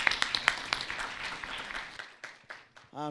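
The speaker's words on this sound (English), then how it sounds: "let's give another round of applause to all of our participants." Scattered audience clapping at a startup pitch competition, a handful of distinct claps near and fairly faint that thin out and taper off quickly.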